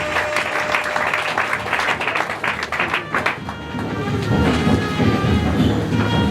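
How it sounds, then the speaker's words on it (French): Audience applause at a 40th-anniversary event for an educational, health and social organisation, dense steady clapping throughout, swelling slightly louder toward the end. "On applaudit, s'il vous plaît, pendant qu'elle arrive"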